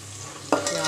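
Onions frying in a pan with a steady low sizzle, then a sudden scrape and rustle as a spoon stirs them midway, close and fairly loud.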